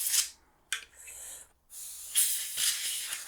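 Short bursts of compressed air blast across the parts of an old Fox Computer Systems computer, a loud hissing spray starting and stopping several times with brief gaps between.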